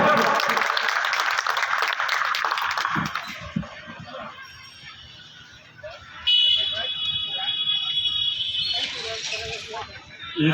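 Broadband applause at a Samajwadi rally in Aurai marking Ram Manohar Lohia's birth anniversary, filling roughly the first three seconds and then giving way to crowd noise, a steady tone and talk.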